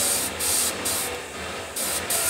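An airbrush sprays paint onto a walleye head fish reproduction in short, close hissing bursts that stop and start in quick succession.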